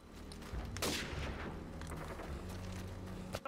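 Dense, rapid gunfire from the video game Call of Duty 4, with overlapping shots and blasts running continuously and fairly loud throughout.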